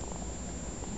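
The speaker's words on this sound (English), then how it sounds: "he purrs a lot" A cat purrs close up in a steady, continuous low rumble with no pauses and no voices.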